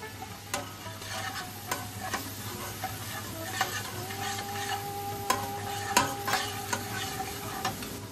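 Onion fries with ginger, cumin and coriander paste and spices for a Bengali chital fish curry, giving a steady sizzle in the pan, with close spoon taps and scrapes of stirring at irregular intervals.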